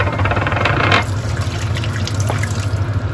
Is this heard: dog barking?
no